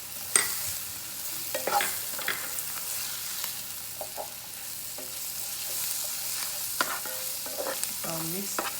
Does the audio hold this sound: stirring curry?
yes